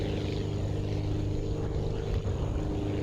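A propeller plane in the video game Aviassembly takes off, its engine droning in a loud, steady hum with a constant low buzz throughout.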